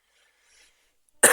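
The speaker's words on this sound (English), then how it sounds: "It's a coughing time of day." A single short, sharp cough bursts out loud and close at the end, after a near-silent stretch with only faint background murmur.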